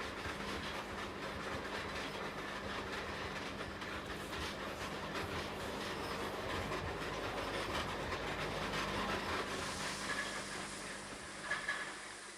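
Subway train rolling steadily along rails near 91st Street, a continuous rumbling rattle with rhythmic wheel clatter and a low hum throughout, rising slightly with a brighter hiss toward the end; no talking.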